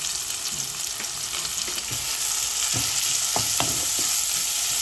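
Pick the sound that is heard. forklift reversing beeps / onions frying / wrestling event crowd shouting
onions frying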